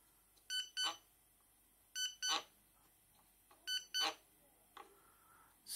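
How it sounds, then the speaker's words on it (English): A two-way car remote chirps in quick double beeps, two pairs of short high tones repeated three times against a quiet room. "it beeps twice and it vibrates twice"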